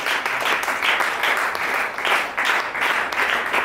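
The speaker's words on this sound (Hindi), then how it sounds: "क्या ताली आप बजा सकते हैं?" An audience at a Pentecostal church gathering claps together in steady rhythmic bursts, a bright, dense patter of hands pulsing about twice a second throughout, moderately loud with no talking.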